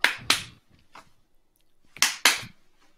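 Hand claps in a disco rhythm, live in a radio studio: two sharp close claps, a pause, then two more, each pair quick and evenly spaced, with faint murmurs in between.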